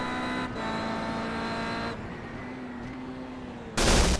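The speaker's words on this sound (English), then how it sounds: "that's called an engine explosion" A race car in a KIA Cup race at Donington Park, heard on board: a steady engine drone shifts pitch and drops, then a sudden loud burst of broadband noise as the engine explodes near the end.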